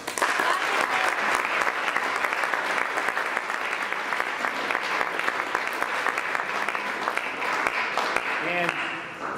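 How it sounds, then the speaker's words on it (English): Audience applause at a college baseball signing, a dense, steady clapping from a nearby crowd that carries on evenly and only starts to thin at the very end. "we need to applaud him for that"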